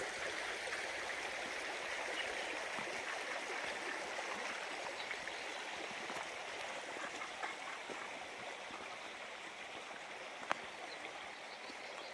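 A river flows past a country house and an old flour mill, its steady, even rushing and trickling continuing unbroken, soft and somewhat distant, with no one speaking.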